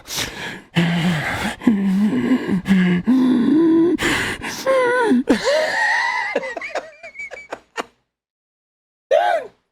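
A voice imitates heavy, rasping breathing, loud and close, a run of repeated drawn-out gasping breaths that trail into wheezy vocal sounds, then a pause and one more short breath.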